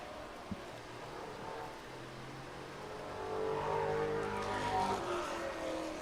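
Late model race cars pull away on the green flag at the Thunder Road Speedbowl high banks, their engines building into a swelling, distant roar partway through.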